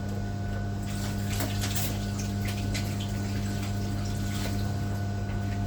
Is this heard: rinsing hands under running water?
yes